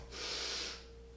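A single slow, deep breath drawn in through the nose during a workout cool-down, a soft airy hiss of about a second, close and fairly quiet over a faint steady hum.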